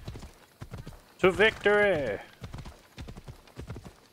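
Rapid clip-clop of horse hooves in Assassin's Creed Odyssey runs throughout, with a brief horse whinny and a shouted voice in the middle.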